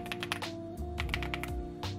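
Keys clicking on an EPOMAKER x LEOBOG Hi75 foam-dampened mechanical keyboard, a quick run of soft, muted keystrokes close up over a faint steady hum.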